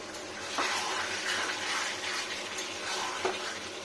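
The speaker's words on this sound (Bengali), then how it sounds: "এই যে জলটা দিলাম" Water poured into a pot of new-potato curry (aloo dum) on the stove, a steady close watery rush and splash running throughout, with a couple of sharper splashes.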